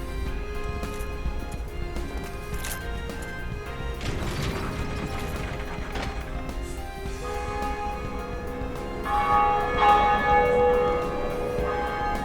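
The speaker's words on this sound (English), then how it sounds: "One bell rung." A church bell rings in the Belfry area of Dark Souls, with several resonant metallic strikes over game ambience and crashing noises, loud and close, and a bright tonal swell near the end, with no talk.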